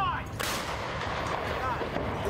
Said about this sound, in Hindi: ज़ेलेंस्की ने अमेरिका से मिली M777 तोप दिखाई कि कैसे उसके धमाकों ने रूस की